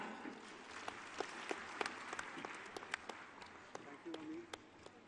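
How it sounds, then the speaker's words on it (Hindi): Applause from an audience at a youth conclave in a convention centre in Indore, a steady wash of clapping with scattered sharper claps standing out over about five seconds. "तो एक बार जोरदार तालियां हो जाएं।"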